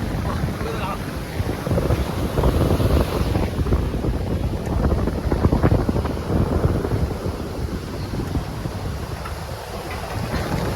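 Strong wind buffets the microphone at Mukkam beach in Mayyanad while waves roll and wash in steadily underneath, loud and continuous throughout.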